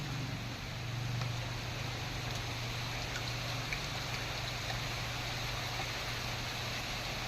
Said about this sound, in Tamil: இந்த மாதிரியான மழையை பார்த்து ரொம்ப நாள் ஆகுது